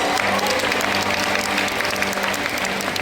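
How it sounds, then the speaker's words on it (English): Full, sustained applause from the audience at a school Black History Month performance, loud dense clapping with crowd noise and a low hum beneath. "Would you give yourselves a round of applause?"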